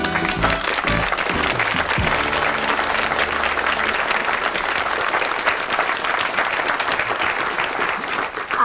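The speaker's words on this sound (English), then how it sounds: "thank you very much for that applause" Studio audience applause on a 1980 British afternoon TV show, a loud, steady wash of many hands clapping that holds for about nine seconds, with brief tonal music at the very start.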